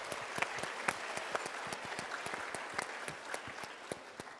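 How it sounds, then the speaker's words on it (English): An audience at a National Young Leaders Day event applauds, a continuous spread of claps with distinct sharp hand strikes standing out, sustained but fairly faint and distant. "Give her a round of applause."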